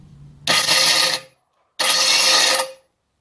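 Two bursts of a harsh, whirring valve seat grinding machine working on Jeep Cherokee valves, each under a second long, separated by a short silence, loud and close.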